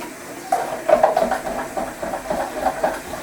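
Hot water runs into a metal beer kit can, a close, hollow gurgling splash with a faint hiss and an uneven ringing resonance from the can, continuing steadily.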